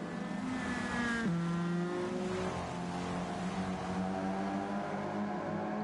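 Race cars in Gran Turismo 7 at Suzuka, a steady engine drone of several cars with a pitch drop as one shifts and passes, continuous and moderately loud throughout.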